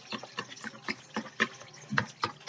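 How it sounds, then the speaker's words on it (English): A whisk beating homemade hand sanitizer liquid in a bowl, with quick, evenly spaced clinking strokes, close and moderately loud, and no one talking. "So I have my whisk, and I'm going to now whisk this."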